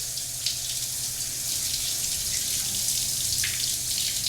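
Steady hiss of a running shower in a Stargate SG-1 episode, a continuous even spray of water that fills the background without pauses or speech.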